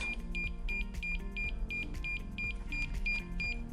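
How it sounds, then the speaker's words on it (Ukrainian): A DJI RC Pro (RM510b) drone remote controller with a low battery beeps in quick regular pairs of short high tones, repeating steadily throughout over a low background hum. "а пульт у нас буде пищати, бо він розряджений"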